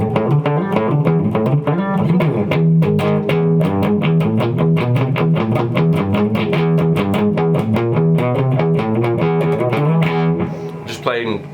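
A 1975 CMI Les Paul Special electric guitar, tuned down to D standard and drop C, plays distorted riffs with rhythmic palm-muted chugs and sustained chords, loud and close, for several seconds before a final ringing note.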